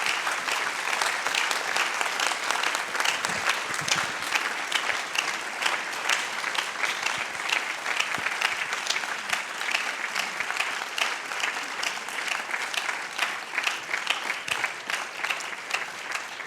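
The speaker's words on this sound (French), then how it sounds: "je vous invite à applaudir une fois de plus Jean-Stéphane pour cette série incroyable" At a film premiere of Jean-Stéphane Bron's series The Deal at the Cinémathèque suisse, an audience applauds warmly and steadily, a close, dense rush of clapping that holds for the whole stretch without speech.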